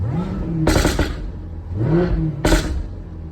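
A supercharged Jaguar F-Type R revs twice, each blip rising with a supercharger whine and ending in sharp, crackling exhaust pops, loud and close, with a lower idle rumble between the two bursts.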